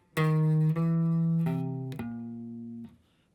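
A clean electric guitar steps down through four notes in a short phrase, each picked or hammered note ringing before the last one fades out.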